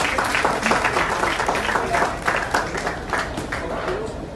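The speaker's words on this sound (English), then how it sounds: "Now clap." An audience breaks into sustained applause, many hands clapping steadily with a few voices mixed in.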